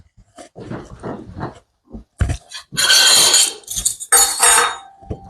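Dishes clink and clatter in a home kitchen while escarole and beans are being made, with a burst of ceramic and metal knocks in the second half following some brief low vocal sounds.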